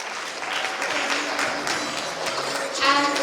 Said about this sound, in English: So can you give yourselves a big round of applause?